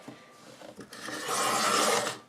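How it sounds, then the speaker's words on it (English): A paper trimmer slices through paper for sticky note holders, a short rough scraping rasp that builds into a sustained cut before stopping abruptly, close and clear without speech. "I'm just going to go ahead and trim this all the way out."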